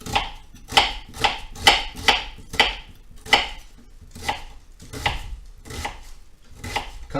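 Knife chopping food on a cutting board in a home kitchen, a steady run of about fifteen crisp, close strokes that ease off in force toward the end, with no talking.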